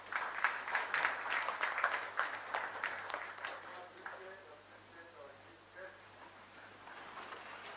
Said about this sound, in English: Can you appreciate him by clapping him more?